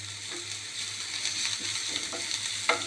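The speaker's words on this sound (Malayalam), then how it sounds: "നന്നായി ഒന്ന് സോട്ട് ചെയ്യാം ഈ വെളുത്തുള്ളി ഇഞ്ചിയും പച്ചമുളകൊക്കെ" Garlic ginger paste, curry leaves and green chilies sautéing in hot oil in a pan, a steady close sizzle with a few soft stirring scrapes and no talk.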